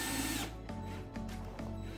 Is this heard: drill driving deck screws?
yes